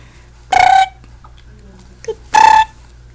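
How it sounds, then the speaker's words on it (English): A child hiccups twice, each a short, loud, squeaky burst with a pause of under two seconds between them and quiet room noise around them. "Are those buggy hiccups?"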